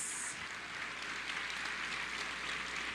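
A church congregation applauding, a steady broadband wash of many hands clapping together at a moderate level that holds evenly for the whole stretch.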